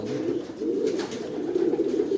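A pigeon-like pet bird coos in soft, low, repeated phrases, close and fairly clear, with a faint background hiss and no talking.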